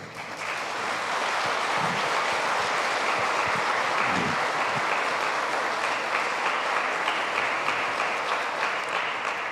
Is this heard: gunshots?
no